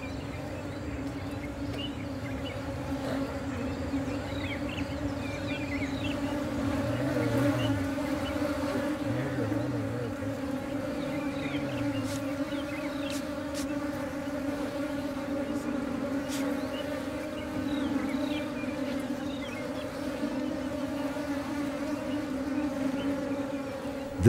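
Dense swarm of wild bees buzzing around a crowded nest, a constant droning hum heard close up for the whole stretch, with faint rustling and occasional clicks underneath.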